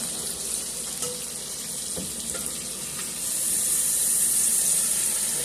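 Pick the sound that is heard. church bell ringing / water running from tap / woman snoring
water running from tap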